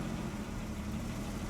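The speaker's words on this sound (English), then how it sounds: "the engine's nice and smooth now" A classic AC 2 Litre car engine runs smoothly at a steady idle, giving a continuous, fairly quiet low rumble with no voices.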